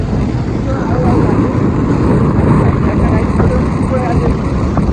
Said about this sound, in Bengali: এদিকে বাইক চলছে